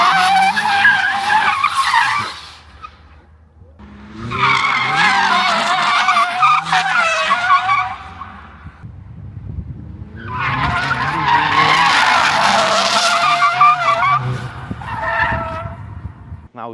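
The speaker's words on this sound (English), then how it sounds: "Gonna do some drifting." A Hyundai Ioniq 5 N, a 650 hp electric car, drifts on a dry asphalt track, its tires squealing in loud sustained bursts of skidding with brief pauses between slides.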